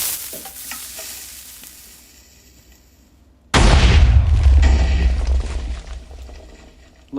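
A TNT cannon in Minecraft fires an ender pearl, starting with a faint fizzing lead-in and then a sudden loud explosive boom that rumbles and slowly decays over several seconds.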